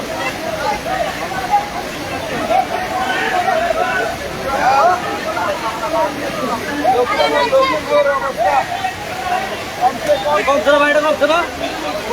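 Floodwater rushing and sloshing steadily through an area where it drains away via pipes, a continuous broad roar close by, with a hubbub of voices murmuring underneath throughout.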